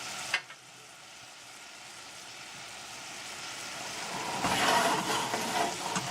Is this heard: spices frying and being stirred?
yes